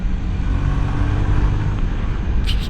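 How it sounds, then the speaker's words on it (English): A 2024 Kawasaki Z125 small motorcycle engine while riding, a steady low rumble and drone with wind, fairly quiet, with no exhaust note standing out and no talking. "I can hear more from the actual engine than I can the exhaust, I think."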